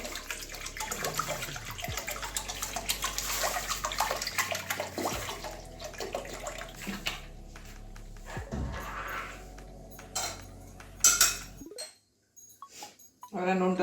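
Water poured into a pot of mung dal with greens on a home stove, a sustained splashing and gurgling broken by a few clinks of metal, then a brief pause and quieter handling at the end.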